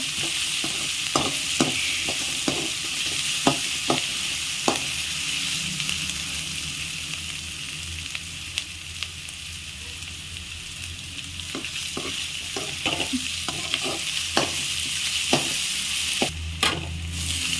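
Mixed leafy greens palya, made with red amaranth, spinach, fenugreek and dill leaves, sizzles steadily in a pan while a utensil stirs and scrapes in repeated clicks, close and with no talking.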